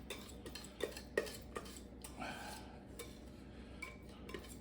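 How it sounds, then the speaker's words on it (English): Coconut cream pie filling being worked out of a pot with a whisk, soft metallic scrapes and light clinks against the pot wall in a quick irregular series, close but quiet. "Then I'm going to grab the whisk and sort of just work the rest of it towards the exit here."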